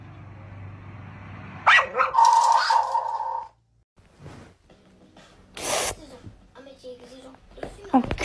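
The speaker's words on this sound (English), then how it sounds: "Bark at your dog." A dog barks a few times, loud and close, amid voices and other household noise, with a brief quiet stretch between bursts.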